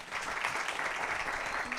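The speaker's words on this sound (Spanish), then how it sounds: "un aplauso para ellas" Brief, fairly quiet applause from an event audience for the organizers of a garden-themed literary translation event, a soft continuous patter of clapping with no pause.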